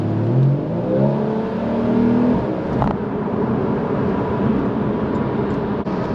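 Porsche Boxster with a flat-six engine accelerating onto the highway, a steady moderate engine drone with some rising tone early on under continuous road noise from inside the car.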